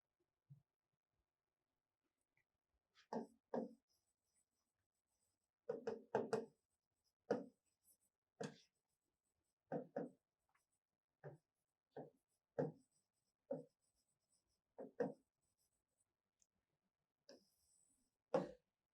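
Marker or chalk writing a heading on a classroom board during a science lesson, heard as a series of short scratchy strokes in irregular bursts with pauses between, close and fairly clear, with no talking.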